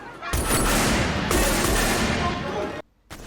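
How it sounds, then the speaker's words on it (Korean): Indiscriminate gunfire in a film scene, a dense, loud burst of rapid shots and booms filling nearly three seconds before cutting abruptly to near silence, then a brief return. "상대가 누구든 상관없이 무차별적으로 난사를 하기 시작합니다."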